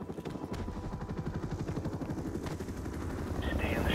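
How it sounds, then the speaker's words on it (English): An enemy helicopter in a video game, its rotor chopping in a loud, steady rapid thud throughout, with sharper bursts of noise near the end. "There it is. Enemy helicopter, get down."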